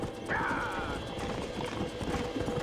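Horses gallop in the video game Red Dead Redemption, with rapid close hoofbeats, a brief whinny and voices talking over the ride.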